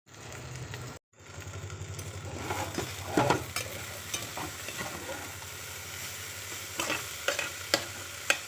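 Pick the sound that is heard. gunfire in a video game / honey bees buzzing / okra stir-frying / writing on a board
okra stir-frying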